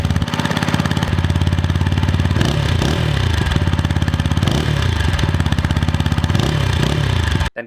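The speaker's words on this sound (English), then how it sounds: "the exhaust used is the classic RTR double barrel one, which does output a pretty punchy note." A TVS Apache RTR 160 4V BS-6 motorcycle's double-barrel exhaust gives a loud, close, steady punchy thrum with slight revs rising and falling before cutting off at the end.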